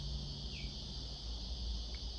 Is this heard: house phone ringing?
no